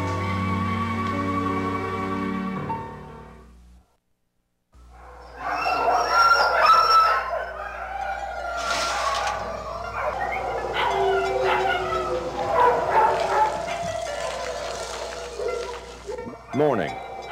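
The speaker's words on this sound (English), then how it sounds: "in the middle of more barking than he had ever heard before" Many dogs bark, yip and whimper in a kennel, with dense overlapping barking from several animals, near and loud, broken by a brief silence early on and preceded by a tonal music-like passage.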